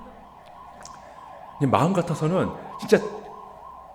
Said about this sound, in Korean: 사이렌이 울리네요.